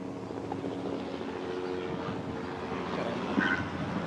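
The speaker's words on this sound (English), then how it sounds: "Helicopter going over the park here, that's a police helicopter." A police helicopter passes over a city park on a sunny, breezy day, its rotor drone a steady, moderately distant rumble with light wind noise and no talking.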